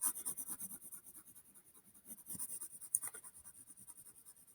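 Graphite pencil shading across drawing paper while sketching, a soft, close, continuous scratchy rubbing in quick repeated strokes, fairly quiet, with one sharper tick near the end.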